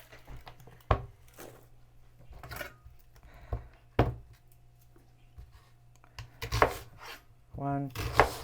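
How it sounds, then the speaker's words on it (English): A knife cuts through an onion on a cutting board in a home kitchen, giving several sharp separate chops at irregular intervals with soft handling noise between them. "I'm going to cut the ends off the onion."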